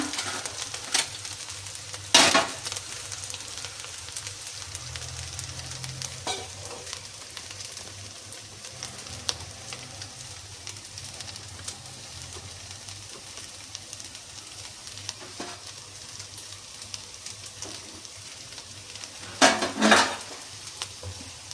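Sugar being stirred into basmati rice payasam in a pot, with soft scraping and occasional sharp clinks of a spoon against metal over a quiet, steady kitchen background; no talking.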